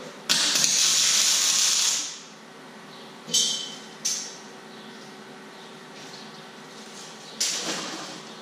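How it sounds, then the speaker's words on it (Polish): Arc welding on the hinges of a swing entrance gate with panel mesh infill, a bright hissing crackle that runs for about two seconds and then returns in three short bursts, the last one longer. Nobody speaks. "Zawiasy obspawujemy ze wszystkich stron w koło, aby nie zostawiać takich szczelin."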